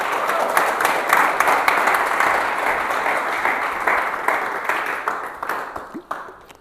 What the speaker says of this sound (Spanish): En el nombre de Jesús, denle fuerte aplauso al Señor.